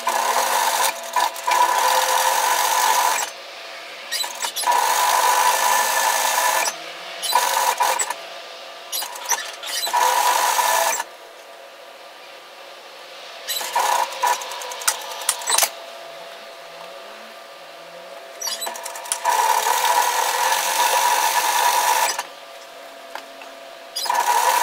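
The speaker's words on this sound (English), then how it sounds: "I want to sew my first stitch directly through my overlock serging line" A sewing machine stitches a cardigan hem directly over an overlock serging line, running in repeated bursts of a few seconds each with brief pauses between, close and steady.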